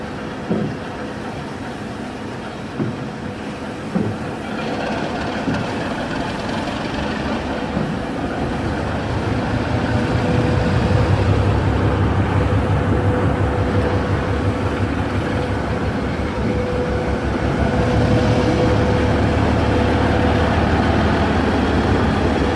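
Steam locomotive at a steam festival, heavy low rumbling and engine drone building steadily, loud and close, with a few knocks early and a sustained throaty idle-like roar, no talk.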